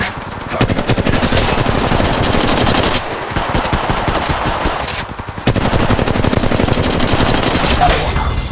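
Automatic gunfire in Apex Legends rattles in long, dense, rapid bursts, loud and close, broken by short pauses between strings of shots, with faint game sounds underneath.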